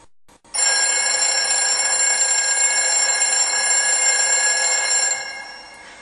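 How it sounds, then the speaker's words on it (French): A school bell rings for lunch time, a loud continuous metallic ring that starts abruptly, holds steady for about five seconds, then cuts off and fades. "Ça y est, ça a sonné, c'est donc l'heure d'aller manger."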